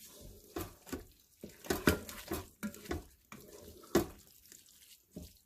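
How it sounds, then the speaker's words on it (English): A spoon stirs dump-and-go chili inside a Ninja Foodi pot, giving irregular scraping knocks and clinks against the pot at an uneven rhythm, close and fairly quiet. "We're just going to stir this up."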